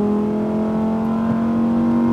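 A Lamborghini Huracán STO accelerating on a race track, a loud, steady high-pitched engine drone heard from inside the car and rising slightly in pitch, with no voices.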